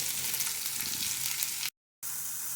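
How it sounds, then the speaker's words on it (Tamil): Onions sautéing in hot oil with popped mustard seeds and split urad dal: a loud, continuous close-up sizzle that cuts out briefly near the end, then returns, with no voices. "இப்போ நான் வந்து வெங்காயத்தை ஆட் பண்ணி நல்லா வதக்கிக்கிறேன்"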